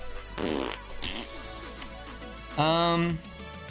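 A short, buzzy fart ripples out clearly for about half a second, preceded by a couple of rustling noises and faint background sounds, with no voice over it.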